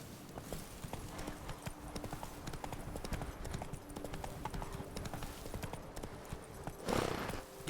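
Horse hooves gallop in a steady clip-clop across The Witcher 3: Blood and Wine, running continuously and close, with a brief louder rustle near the end.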